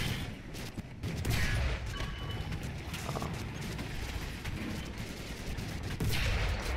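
Tank cannon and machine-gun fire in the War Thunder video game, with a dense, continuous barrage of rumbling shots and crackling bursts filling the whole stretch, loud and unbroken, with no talk.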